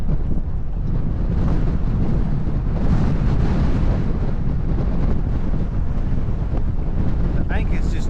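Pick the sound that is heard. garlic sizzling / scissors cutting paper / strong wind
strong wind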